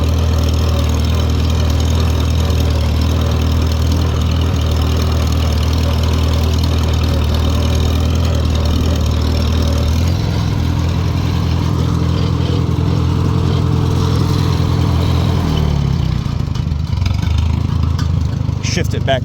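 A 1940 Farmall H tractor engine chugs steadily at idle, firing on all four cylinders, a loud, close, even putter that shifts slightly in pitch partway through, with a voice speaking over it.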